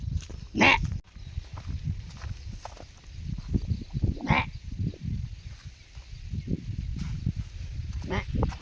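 Goats bleat on a small family farm, a few drawn-out calls spaced across a steady rumbling outdoor background with people talking nearby.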